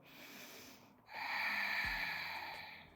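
A deep breath during a yoga warrior pose: a soft, close inhale gives way to a longer airy exhale of breath, faint and quiet with no talking.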